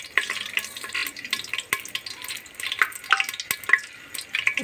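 Fenugreek seeds hit hot mustard oil in a cooker, crackling and sizzling at close range with sharp pops and a bubbling hiss that comes and goes in uneven bursts.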